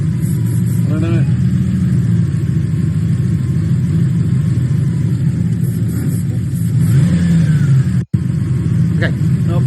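Toyota 1UZ V8 on a Link Fury ECU setup, with a fuel problem keeping it under about 2,000 RPM: a steady idle with brief rev rises that sag back, under talk.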